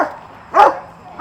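A guard dog on a training field gives one sharp, close bark amid quiet surroundings, with the start of another bark cut off at the very end.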